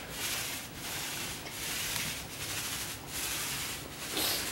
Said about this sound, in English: Now I can feel my roller. It's going. You hear that?